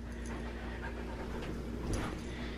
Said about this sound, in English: You're being a rude dog.